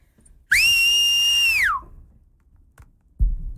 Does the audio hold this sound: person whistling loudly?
yes